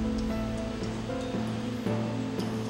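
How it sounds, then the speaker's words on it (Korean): A flooded Nakdong River at the Haman weir during Typhoon Dianmu rushes over the weir with a loud, continuous roar of churning water and a steady low rumble, with no voices over it. "강물이 빠른 속도로 불어나 관리 수위 5m를 넘어 하만보를 넘쳤다"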